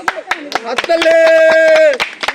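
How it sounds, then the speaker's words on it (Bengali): Spectators clap in quick rhythmic bursts at an outdoor coin-picking game played with the feet. A sustained tone and speaking voices carry over the claps. "সবাই একটু তালি দাও, তালি দাও"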